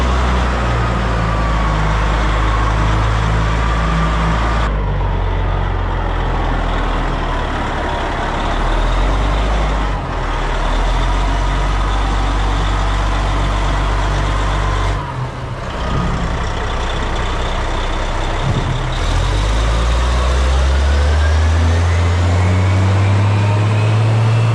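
A large CAT underground mining truck drives along with a heavy, steady diesel roar. The engine note drops at several gear changes and swells again toward the end, loud and close throughout.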